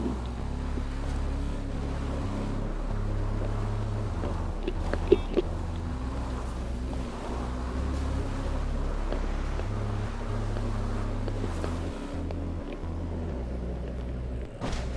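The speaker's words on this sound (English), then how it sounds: "The water is full of attack boats." Attack boats race across open water in GTA 5 Online: a steady, loud motor drone with wind and water rush that holds for the whole stretch, broken by a few brief clicks, and no talk.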